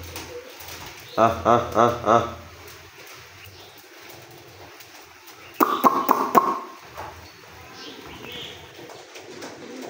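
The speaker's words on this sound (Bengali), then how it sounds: "এই যে একটা কবুতর আইতেছে, একটা নামছে" Pigeons in a rainy yard give two short bursts of rhythmic cooing, the first around a second in and the second mid-clip, over steady rain hiss and faint background noise.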